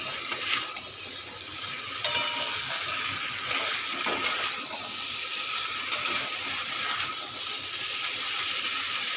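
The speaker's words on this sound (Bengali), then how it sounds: "কুমড়োটা দিয়ে একটু নাড়াচাড়া তো করবো।" Fried pumpkin being stirred in a hot pan for a Bengali kumro chhokka, a steady sizzle with occasional scraping clinks of the spoon, close and continuous with no talk.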